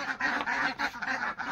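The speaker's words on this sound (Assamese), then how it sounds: "দেখিছেনে এইকেইটা হৈছে হাঁহ" Ducks on a small local farm quack in a quick, close run of several calls lasting a second and a half, with no talk over them.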